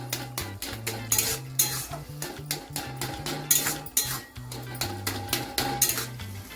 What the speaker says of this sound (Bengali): এবার এটাকে খুব ভালো করে মিলিয়ে নেব।